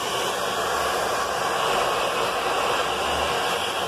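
A hair dryer runs steadily, heating glue on a patch over a hole in a simple air mattress, a loud, constant airy whoosh close by with no break.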